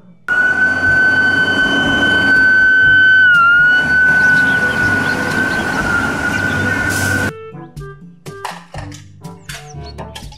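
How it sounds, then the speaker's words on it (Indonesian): A toy fire truck's electronic siren wails loudly in a steady tone that dips briefly, then cuts off, followed by scattered clicks and small plastic knocks. "Mobil truk pemadam kebakaran."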